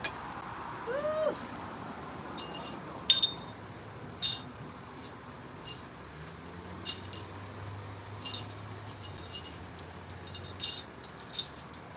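Glass items clink and tinkle as scattered objects are picked up outdoors, a series of bright, brief chinks spaced a second or so apart over a steady background hiss, with a low hum partway through.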